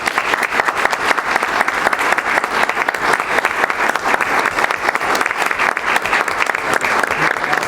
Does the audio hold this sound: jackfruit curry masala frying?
no